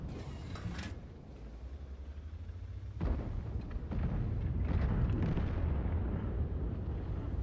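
Tank guns fire and shells explode in the World of Tanks video game, a deep heavy boom near the start followed by another blast and continuous low rumbling engine and battle noise, no speech.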